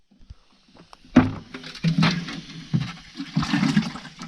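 Water is poured from a watering can onto plants in a food-forest garden, a close splashing and trickling stream that starts abruptly and continues unevenly in surges.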